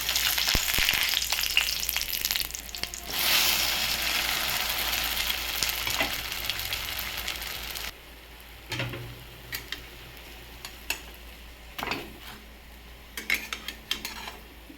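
Dosa frying on a hot pan, a loud continuous sizzle for several seconds that drops off sharply, followed by quieter crackles and scattered utensil clicks.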